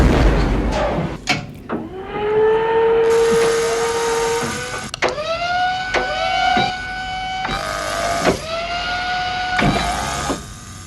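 A hydraulic servo machine sound effect from Nine Inch Nails' Reptile: loud, close, heavy mechanical whirs that rise in pitch, with sharp clanking hits and motor-like sweeps repeating over about ten seconds, no voices.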